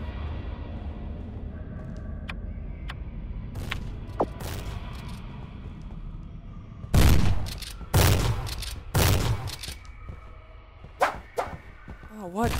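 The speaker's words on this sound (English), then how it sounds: "Oh, now she's shooting at me." Gunfire from an enemy character in the cheap indie first-person shooter Vampire Slayer FPS, a cluster of sharp, loud shots in the second half that ring out over a low game background hum.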